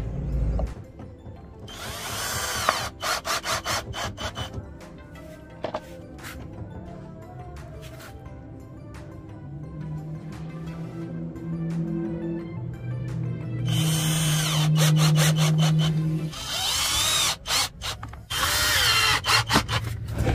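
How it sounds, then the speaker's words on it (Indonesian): A power screwdriver drives screws into plywood in several whirring bursts of varying length, with a ratcheting rattle, short pauses between screws and a constant low hum underneath. "Lalu ini kita sekrup ya. Ini kita sekrup dengan tripleknya teman-teman."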